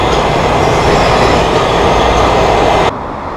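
A Washington metro subway train rumbles loudly and steadily, a broad roar of wheels on rails that cuts off abruptly near the end, with no voices.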